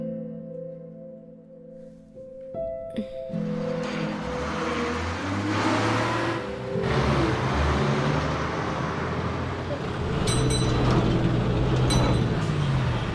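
A passenger bus drives along a road, its engine rumble and road noise rising and holding steady with shifting tones, heard close and fairly loud with no talking.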